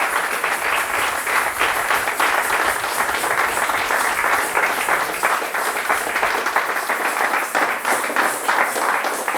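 A church congregation applauding the Lord, dense sustained clapping from a crowd filling the room, steady and fairly loud throughout with a few faint voices underneath.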